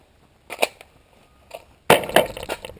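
A rifle magazine drops free from a Beretta ARX100 during a magazine test, with a few sharp plastic-and-metal clacks and a louder rattling clatter near the end, close and distinct.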